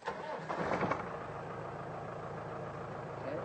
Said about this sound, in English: Let me see what happens if I start the engine.